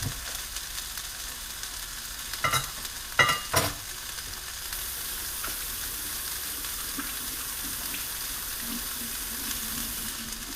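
Kitchen water runs steadily during washing, a continuous hiss with a few clattering knocks near the start and the flow carrying on evenly throughout.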